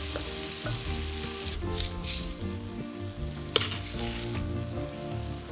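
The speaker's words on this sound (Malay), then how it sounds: "Dengan menggunakan kuali tadi, masuk semua bahan-bahan kisar kasar dan masak bersama gula." Coarsely blended ingredients sizzle and fry with sugar in a wok for nasi ayam penyet, a steady close hiss with a few clinks of stirring.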